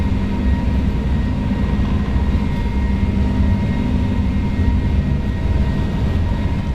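Steady, loud low-frequency engine roar of an A321neo on its takeoff roll and climb in a flight simulator game, continuous and even throughout with no talking.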